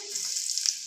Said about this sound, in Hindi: तेल गर्म होने के बाद इसमें डालेंगे अदरक लहसुन